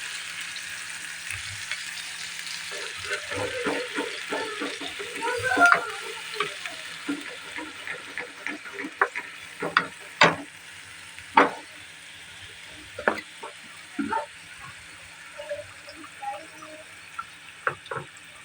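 Ground spice paste frying in hot oil, a soft sizzling hiss broken by scattered pops and sharp clicks of a utensil against the pan, close and fairly quiet.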